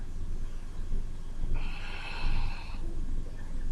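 A forceful breath is pushed out during a pilates exercise, a roughly one-second hiss standing out over constant background noise, close to the microphone.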